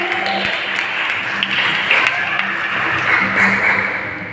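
A church congregation at an Easter service and award ceremony breaks into sustained applause for an honoree, a full, even wash of clapping with a few sharper taps standing out.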